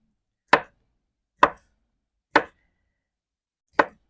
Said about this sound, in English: we will cut this sausage up into chunks